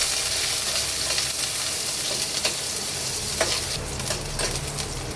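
Chopped onion frying in lightly heated oil in a wok, a steady close sizzle with a few faint scrapes of stirring, alone without talk.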